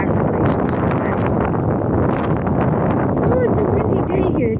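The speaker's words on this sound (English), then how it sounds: "it's a windy day here today" Wind on a blustery day buffets the microphone in a constant, loud rumble with gusty rustling, and a person talks over it.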